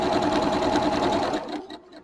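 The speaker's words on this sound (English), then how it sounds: "I'm going to sew along that one side" A sewing machine runs a steady quarter-inch seam along pieces of quilt fabric while chain piecing. It makes a close, continuous whir that slows and fades to a stop near the end.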